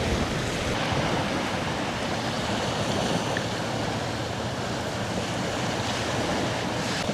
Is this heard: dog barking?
no